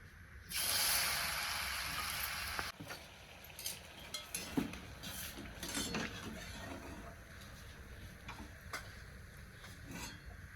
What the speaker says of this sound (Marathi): आता अशाच पद्धतीने मी सगळ्या चकल्या तळून घेते